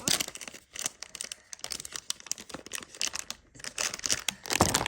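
Close, continuous crinkling and rustling of plastic packaging being handled and pulled at, in irregular bursts with no talking.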